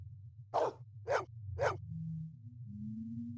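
A dog in the Blade Runner video game gives three sharp, evenly spaced barks close by, with a low steady hum running underneath and continuing after the barks stop.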